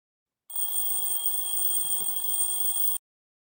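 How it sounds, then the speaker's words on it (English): An alarm clock rings in the Doki Doki Outcast visual novel game, a steady electronic tone with bright high overtones held continuously for about two and a half seconds, fairly loud and alone before cutting off abruptly. "I wake up and turn my alarm off"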